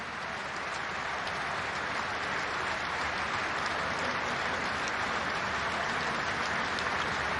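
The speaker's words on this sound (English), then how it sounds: "Durham crowd appreciative, all stand on their feet" A cricket crowd at Durham applauds a departing batsman during an England versus South Africa one-day international, with steady, broad clapping at a fair distance that holds evenly throughout and no voices standing out.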